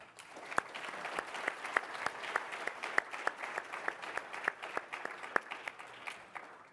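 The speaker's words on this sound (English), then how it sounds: "If you would all join me in a round of applause." A conference audience claps after a panel on climate risk compliance. The applause is fairly quiet and a little distant, with many individual claps standing out sharply in an uneven, steady patter.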